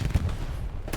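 Grenade blast and gunfire in the World War II shooter Hell Let Loose at Hürtgen Forest: a dense one-second burst of low booms and cracks, with a heavy thump near the start and a sharp report near the end.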